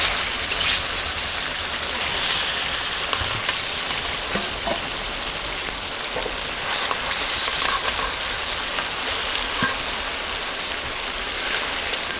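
Tilapia pieces fry steadily in a pan, a continuous close sizzle and crackle with occasional stirring scrapes, no one speaking.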